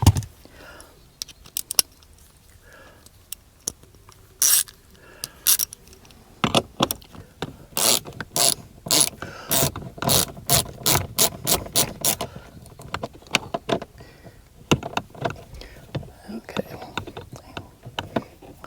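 A ratchet wrench works on a Buick door, first in scattered clicks, then in fast, steady runs of ratcheting strokes close to the listener, with faint talk in places.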